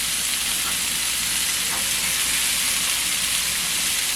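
Meat searing in a hot pan, a loud, continuous broadband sizzle and hiss that stays constant and close throughout without pause.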